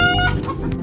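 A hen clucks close by in a short burst, with other chicken calls overlapping briefly.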